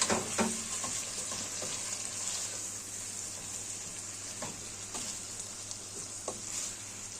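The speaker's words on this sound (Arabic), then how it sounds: "هنبدأ نحمر البصلاية مع القوانص." Chopped large onion frying with chicken gizzards in rendered fat, giving a continuous crackling sizzle with occasional sharper pops and stirring scrapes, close and steady throughout.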